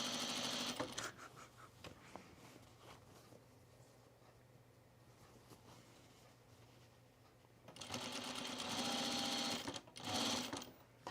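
Domestic sewing machine stitching trim onto pajama bottoms: a fast, rattling mechanical run at the start, a quieter pause, then a longer close burst of rapid stitching near the end.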